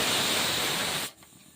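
Steam hisses loudly and steadily from a pressure cooker used to cook paneer, then cuts off abruptly after about a second, leaving quiet room tone.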